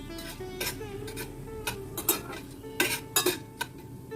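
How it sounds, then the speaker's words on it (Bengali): Urad dal and chana dal, tempered in a frying pan, being stirred into rice, with scattered clinks and scrapes of a utensil against the pan over a faint sizzle, close and irregular. "ভাতের সঙ্গে মিশিয়ে নিলাম।"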